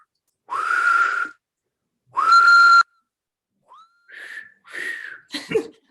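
A person whistles in imitation of a steam train: two long, breathy whistle blasts, then a few shorter rising toots, loud and close with silent gaps between.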